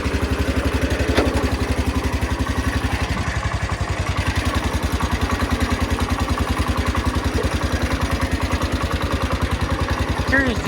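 An old Cub Cadet tractor engine chugging steadily at idle, warmed up, loud and close, with a regular low thumping pulse throughout.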